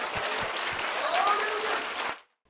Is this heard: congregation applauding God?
yes